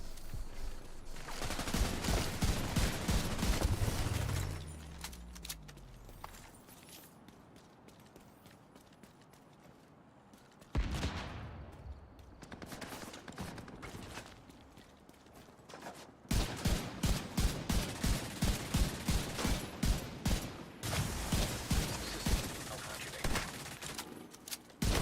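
Gunfire in The Division 2 from a different gun: long stretches of rapid, rhythmic automatic fire, loud and near, broken by quieter pauses and a short low whoosh, with speech faintly present.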